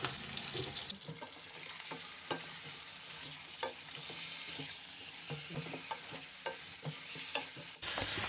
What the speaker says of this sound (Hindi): चिकन को हम कलर आने तक फ्राई करेंगे, तकरीबन 5 मिनट।